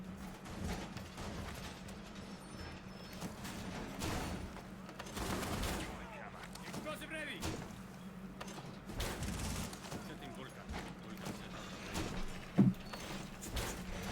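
Gunshots in a competitive bomb-defusal shooter match at a Catalyst League grand final: faint, scattered bursts of shots and mechanical clicks over a steady low hum, with one sharper crack near the end.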